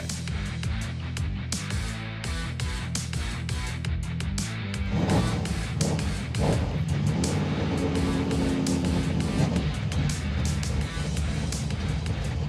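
A '56 Chevy field car's engine roaring and revving hard on line lock, a loud sustained mechanical drone that surges partway through, close by.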